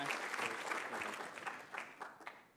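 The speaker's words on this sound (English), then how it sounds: "Round of applause." A burst of clapping from a small audience at a start-up pitch event, loud at first and gradually thinning out toward the end.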